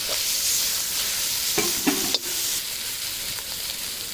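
Smashed chicken stuffing for squid is stirred in a hot pan under a constant sizzle. A spatula scrapes and clinks against the pan in a few distinct strokes midway.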